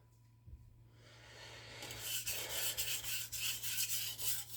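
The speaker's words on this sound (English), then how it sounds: "Just deburring." A knife edge being deburred on a sharpening stone with light pressure, a soft quiet rubbing that starts faint and turns into repeated raspy strokes in a steady back-and-forth rhythm, close by.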